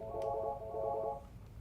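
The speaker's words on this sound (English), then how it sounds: "I hit my call pickup button, enter 1003" Office desk phone keypad tones as an extension number is entered for call pickup, a steady electronic tone lasting about a second, close and clear, followed by a brief quieter pause.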